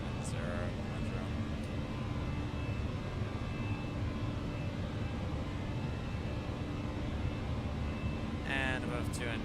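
Steady engine and airflow roar of a Fenix A319 airliner climbing after takeoff from Montreal in Microsoft Flight Simulator, a constant broadband drone throughout with brief radio voices near the start and end.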